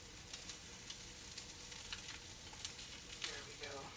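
Tuna patties frying in a pan make a quiet, steady sizzle with small crackling pops and light clicks of a utensil against the pan.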